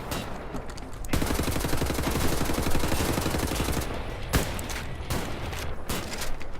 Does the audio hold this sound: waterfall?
no